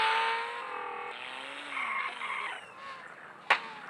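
A car engine revs and whines as it passes, with tire squeal and a sharp knock near the end, sounding synthetic like game audio.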